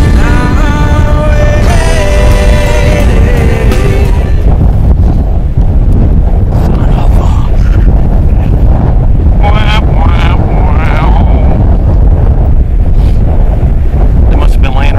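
Strong wind buffets the microphone outdoors during a coyote hunt, a constant loud roar and rumble throughout, with faint tonal whines and a voice briefly audible beneath the gusts.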